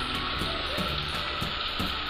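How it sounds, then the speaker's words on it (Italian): Struffoli, small Italian dough balls, frying in hot oil until golden and puffed, giving a steady close hiss and bubbling crackle throughout with no talk. "e li facciamo friggere fin quando non saranno belli dorati"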